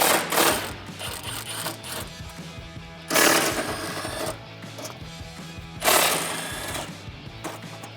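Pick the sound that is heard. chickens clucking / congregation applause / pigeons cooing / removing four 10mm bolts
removing four 10mm bolts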